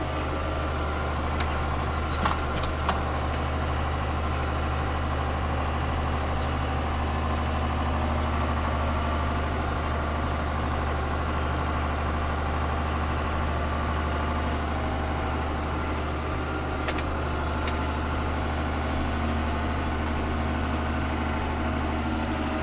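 A tractor engine idles steadily and close by, a constant low rumble with a slight mechanical rattle and no change in pitch throughout.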